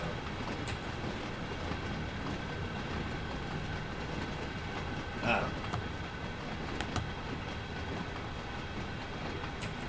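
Simulated freight train of roughly 40 cars rolling on rails in Train Sim World 2, a steady low rumble with faint clatter and a brief squeal midway, under a man's occasional speech.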